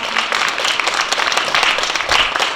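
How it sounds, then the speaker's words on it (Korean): A crowd applauds a professor at a student project presentation contest, with dense, steady clapping filling the whole stretch at close range. "심사 기준을 말씀해주신 장래 교수님께 다시 한번 큰 박수 부탁드립니다"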